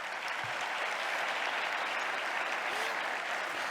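Sustained audience applause fills a theatre at a congress opening ceremony, a steady dense wash of clapping from a large crowd throughout.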